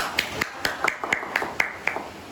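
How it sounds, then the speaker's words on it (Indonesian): Children clapping together in a classroom, a steady rhythmic patter of hand claps at a regular beat, fairly close, with faint voices underneath. "Tepuk tangan anak-anak."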